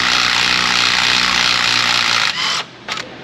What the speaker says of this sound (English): Coming in with the impact gun. That's the 90. I think that should be sufficient to break that guy loose.